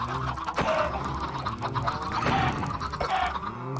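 Minecraft chickens cluck in a few soft, repeated bursts amid faint game ambience and clicking, quiet and without talk.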